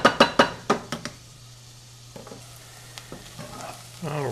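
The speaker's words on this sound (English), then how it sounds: "we have the onions sauteed to where they are starting to get a little bit translucent" A spoon knocks rapidly against a pan about seven times, then onions for a Guinness BBQ sauce sauté with a soft, steady sizzle and occasional light stirring clinks, no talking.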